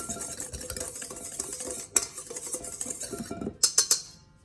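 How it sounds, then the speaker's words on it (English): Flour, nutmeg and yeast are stirred by hand in a bowl for beignet dough, a steady scraping and clinking of a utensil against the bowl, with a few sharper knocks near the end. "And now I'm going to add the yeast. I'm going to mix this up by hand."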